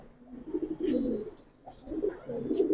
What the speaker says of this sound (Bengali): এক পাট্টা কবুতর।